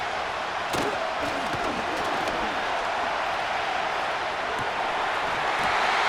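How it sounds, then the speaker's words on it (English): Broad stadium crowd roar from a Madden NFL 25 football game in an AFC Championship setting, a steady loud wash of cheering with a few sharp thuds near the start, no talk. "This crowd doing everything they can before third and goal"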